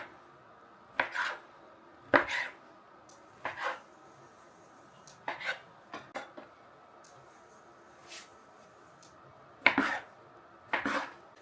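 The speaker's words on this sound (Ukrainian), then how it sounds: "Далі наріжемо, наріжемо на шматочки." A knife cuts rolled strudel dough into pieces on a wooden board, about a dozen sharp, irregular knocks, some doubled, close and clear against a quiet background.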